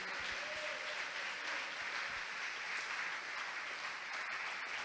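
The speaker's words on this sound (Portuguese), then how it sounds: "Quer aplaudir? Pode aplaudir." A church congregation applauds, a steady, dense wash of clapping from many hands at a moderate distance, continuous throughout with no talk over it.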